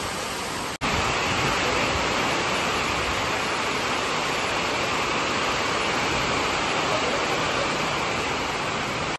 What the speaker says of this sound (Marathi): एवढा पाऊस पडतोय बेकार एकदम